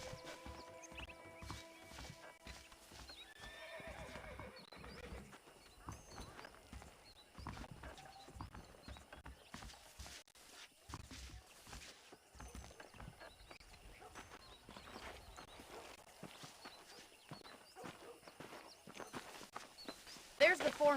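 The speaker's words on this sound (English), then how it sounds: "The horses are saddled up over here." Hooves clip-clop steadily at a walking pace, with an occasional horse whinny, under a voice talking quietly throughout, in the game Red Dead Redemption.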